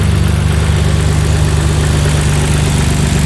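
A car engine idles steadily with a low, even rumble and a constant mechanical hum, close up and unbroken.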